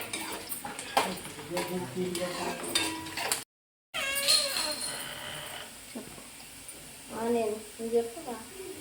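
Onions frying in a pan for a home-style fish curry, a steady sizzle with scraping stir and clatter of a utensil against the pan, moderately close, with a voice talking over it for much of the time.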